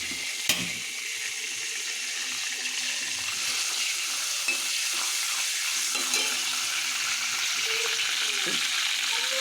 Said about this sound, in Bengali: এক মিনিটের মতো ভাজবো